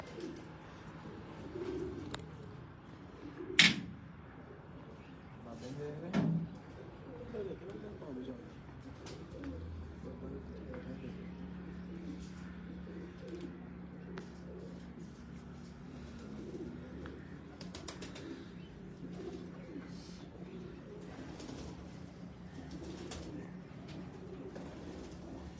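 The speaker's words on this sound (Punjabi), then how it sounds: "ਕਬੂਤਰੀ ਹੱਥ ਦੇ ਵਿੱਚ ਫੜੀ ਹੈ" A female racing pigeon held in the hand gives soft, low cooing, with a couple of louder close sounds early on against a quiet outdoor background, while people speak nearby at times.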